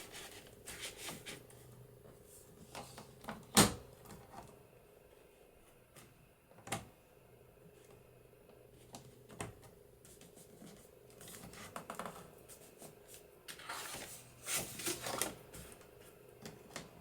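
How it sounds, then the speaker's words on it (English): Paper being cut with scissors while assembling a 6 x 6 inch Christmas journal, with scattered close snips and scraping handling noises, one sharp cut standing out, all at low volume with no speech. "So I'm going to cut"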